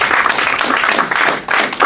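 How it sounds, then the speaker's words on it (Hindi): An open mic audience gives a short burst of dense, close clapping and applause that stays steady, briefly dips, then picks up again. "एक बार मैं मेरी बड़ी बहन कोमल जोशी के लिए जोरदार तालियां बजवाना चाहूंगा"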